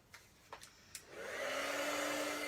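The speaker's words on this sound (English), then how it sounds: "Let me move that out of the way so that I don't blow it away with the heat gun." A few light taps and clicks come first, then a heat gun switches on over embossing powder on a stamped card and keeps up a loud, steady whooshing hum with a rising whine.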